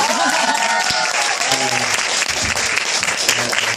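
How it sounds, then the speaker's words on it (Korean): Audience applause for a certified lecturer at a health and diet talk, a loud, steady roomful of clapping sustained throughout with a few voices mixed in. "대충 이럴 때 박수 치시더라고요."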